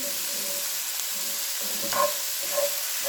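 Chicken fried rice with peppers and onions cooks in a pan on low heat, giving a soft, steady sizzle with a couple of faint scraping stirs near the end.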